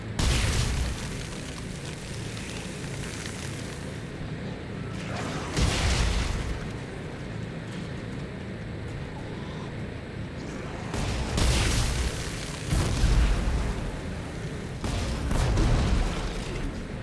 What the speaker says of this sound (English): Air Force gun just blow them back into those gravity plates.